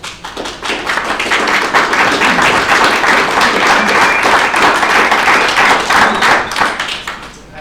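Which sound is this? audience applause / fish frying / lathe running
audience applause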